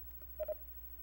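Telephone keypad tones during a radio call-in show, a few short dialing beeps with two clear tones close together, fairly faint over a steady low hum.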